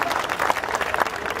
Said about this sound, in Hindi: तालियां कम हैं।